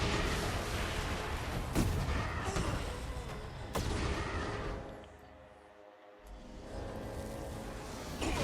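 A broken gun in Saints Row: Gat out of Hell fires in loud, rumbling bursts with sharp cracks, dips into a quiet gap, then resumes.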